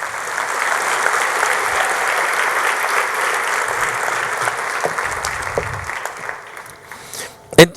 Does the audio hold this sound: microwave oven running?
no